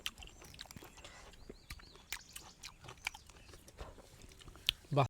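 Fresh pineapple being bitten and chewed up close, a run of soft wet crunches and chewing clicks, fairly quiet, with a sharper sound near the end.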